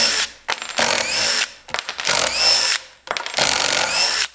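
Power drill backing screws out of wood, loud and close, whirring in three bursts of about a second each with short pauses between them, the pitch shifting as each screw loosens.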